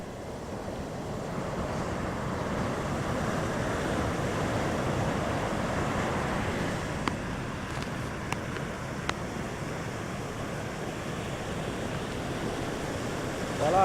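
Surf rolling onto the beach at Enzio in Kribi, Cameroon, a steady broad wash of waves with wind noise throughout and a few faint clicks near the end, no voices.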